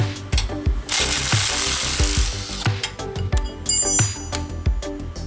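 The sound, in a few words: large wrench removing grease fitting on spider lift track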